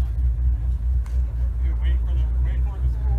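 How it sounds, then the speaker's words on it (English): A Chevy Caprice pulls up at a car meet of Holden-built cars, its steady low engine rumble filling the clip with faint outdoor noise above it. "Got another Caprice pulling up."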